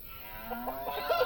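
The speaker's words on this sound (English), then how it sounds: "the cows are in good voice today. Mooing and cowing away." Cattle mooing on a farm in the Farm Manager 2018 video game, a few short lowing calls rising and falling over a steady ambient background.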